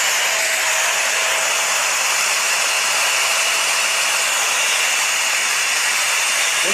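Shark Navigator Lift-Away Professional NV356E upright vacuum cleaner running steadily close by, a loud constant airy whoosh with a high whine and no pauses.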